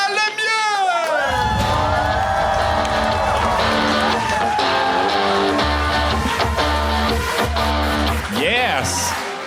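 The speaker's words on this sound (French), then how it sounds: "un tonnerre d'applaudissements pour le premier, Vincent Lemieux" A crowd cheers, whoops and shouts for a comedian taking the stage at a Quebec comedy contest show, loud and sustained, with upbeat stage music running underneath throughout.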